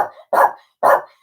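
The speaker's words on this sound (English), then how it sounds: "Shut the dog up." A dog barks three times in quick succession, loud and close, each bark short and sharp with brief gaps between, no talking over it.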